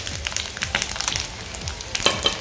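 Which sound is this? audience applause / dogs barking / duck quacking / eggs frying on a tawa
eggs frying on a tawa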